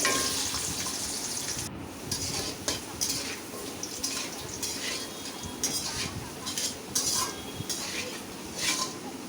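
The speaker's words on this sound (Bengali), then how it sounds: "এখন আলুগুলো ভেজে নিব" Potatoes fry in oil in a pan, a close continuous sizzle broken by clinks and scrapes of a utensil against the pan as they are turned, with no one speaking.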